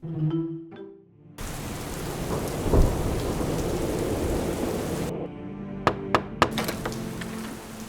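Cartoon thunderstorm with heavy rain: a steady, loud roar of downpour fills the scene, punctuated by a thunder crack, then a few sharp claps near the end as the rain cuts off.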